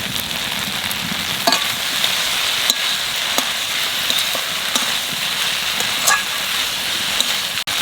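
Okra frying in a pan as raw onions are tossed in, a steady close sizzle with scattered sharp crackles and a few clicks of a utensil, no talking.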